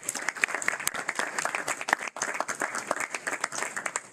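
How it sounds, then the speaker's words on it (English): Audience at a school board of education meeting breaking into applause, dense, steady clapping from many hands, close and fairly loud, sustained for several seconds with no talking over it. "they deserve a round of applause for them"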